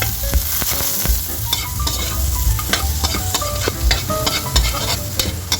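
Garlic and onion frying in oil in a wok-style pan for pinakbet, a loud crackling sizzle broken by frequent clanks and scrapes of a spatula stirring against the metal.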